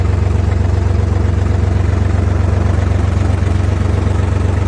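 A Solis 50 RX tractor with a 50-horsepower engine idles close by in a steady, low, throbbing hum that stays even and unbroken, with no talking.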